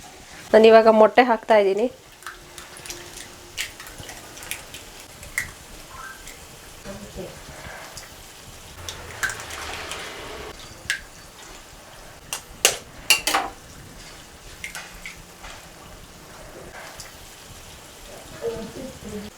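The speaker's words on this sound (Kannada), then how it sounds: "ನಾನು ಇವಾಗ ಮೊಟ್ಟೆ ಹಾಕ್ತಾ ಇದ್ದೀನಿ" Eggs cooking in a pan with fried tomato for egg bhurji give a soft, steady sizzle with scattered sharp crackles and pops, mostly faint, while someone talks now and then.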